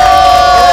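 Studio audience at an Indonesian gossip talk show cheers and claps in a loud, dense burst, with a steady ringing tone running through the crowd noise.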